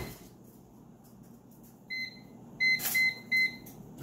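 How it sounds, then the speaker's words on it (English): An air fryer being set gives a few short, clear electronic beeps close by: a single beep followed by a quicker pair, with a faint kitchen hum beneath and no talking. "spray down my air fryer, put some broccoli in here"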